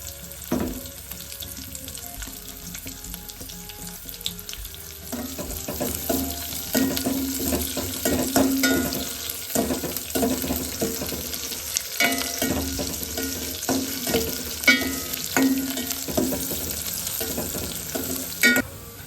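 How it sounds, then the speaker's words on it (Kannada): Finely chopped onion fries in a pan with a continuous close sizzle, broken by repeated stirring scrapes and utensil knocks that grow busier partway through, with no talking. "ಈರುಳ್ಳಿ ಸಣ್ಣದಾಗಿ ಕಟ್ ಮಾಡಿ ಇಟ್ಕೊಂಡಿದ್ದೀನಿ. ಈಗ ಸ್ವಲ್ಪ ಫ್ರೈ ಮಾಡ್ಕೊಳ್ಳೋಣ."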